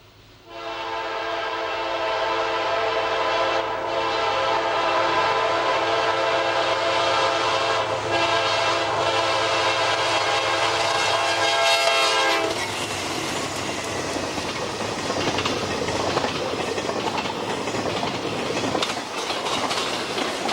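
A CSX freight train rolling past South Robards in worsening weather: a loud, close locomotive horn blares with a harmonic chord for several seconds, then gives way to a steady roar of rumbling cars and wheel noise.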